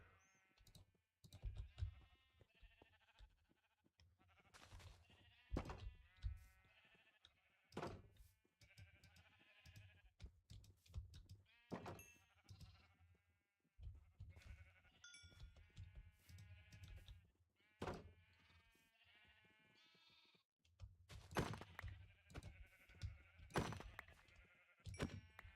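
Sheep bleat repeatedly in a video game, a series of close, wavering calls coming in uneven bursts with short gaps between them.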